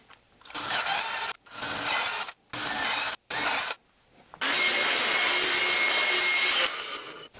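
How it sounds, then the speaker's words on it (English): A power drill whirs in several short bursts with brief pauses between, then runs in one longer steady burst, grinding through a wooden guitar body up close. "Let's drill."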